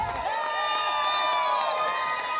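Crowd at an election-night gathering for a District B race win cheers and whoops continuously, with high shouted voices and clapping forming a loud, dense wall of celebration.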